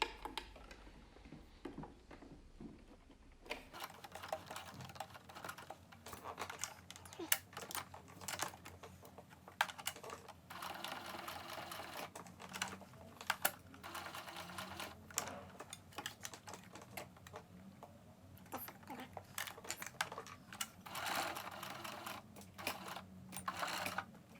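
A sewing machine runs a straight line stitch through lightweight ultralight running and hiking gaiter fabric, giving a steady, fast, close ticking chatter that continues with small pauses for about twenty seconds.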